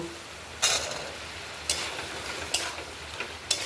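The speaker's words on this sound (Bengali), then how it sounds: "আলুগুলো দিলাম আলুর সঙ্গে একসঙ্গে আমরা ভেজে নেব" Potatoes fry in hot oil alongside spiced masala in a pan, a soft steady sizzle punctuated by four sharp utensil scrapes or knocks at regular intervals.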